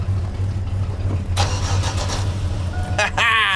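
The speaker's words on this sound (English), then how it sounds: "All right, I'll crank it over." A car engine, on a hot rod with an electric oil scavenge pump, is cranked over and catches. A short starter whir is followed by a rising engine start at close range.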